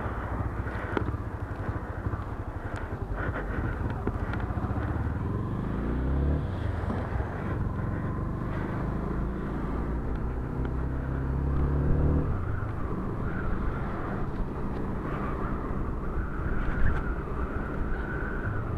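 A Honda CB250 Twister motorcycle being ridden gives a continuous engine drone whose pitch rises and falls with speed, steady throughout and mixed with rushing wind noise at the microphone.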